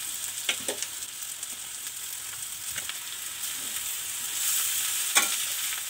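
Onions and cabbage fry in a pan with a steady close hiss, broken by several scraping stirs of a spatula; no voices.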